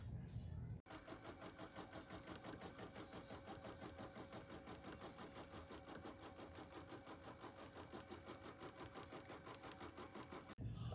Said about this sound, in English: I'm going to take over the machine and run the tack down stitch